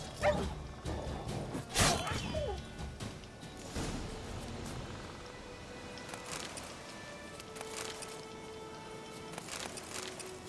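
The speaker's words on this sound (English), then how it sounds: "Damn, these are some big ass dogs." Large dogs barking, yipping and whimpering during combat in the video game Witcher 3, a burst of close barks early on, then scattered yelps over game noise.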